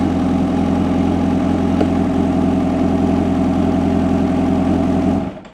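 A Kawasaki Ninja H2 motorcycle engine runs at a steady, loud, close idle with a constant low rumble that cuts off abruptly at the end.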